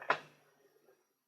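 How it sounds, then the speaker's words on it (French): A cat tries to open a door indoors: a single sharp knock or rattle of the door, followed by faint, soft scraping and shuffling that fades out. "le bruit que vous entendez, c'est mon chat qui veut ouvrir la porte."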